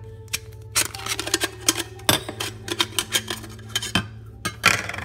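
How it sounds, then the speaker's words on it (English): The bottom of a beer bottle cooler is unscrewed by hand, producing a close series of irregular plastic clicks and ratcheting ticks spread over a few seconds with short pauses. "at the bottom, you can unscrew it like so"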